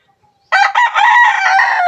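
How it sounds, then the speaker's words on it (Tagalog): A young stag rooster, a white pit sweater, crowing once close and loud, a single drawn-out crow beginning after a brief quiet start and holding to the end. "Isa siyang stag natin dito sa mga manok natin."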